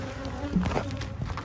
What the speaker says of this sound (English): we're going to put some bees in here and that virgin queen